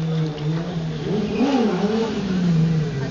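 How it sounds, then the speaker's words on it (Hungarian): A stunt motorcycle spinning a circular burnout at an indoor motor show, its engine revving loudly and continuously with wavering pitch over a busy crowd background. "Megy a burnout körbe, már is mászik a motoron egyik irányból a másikba."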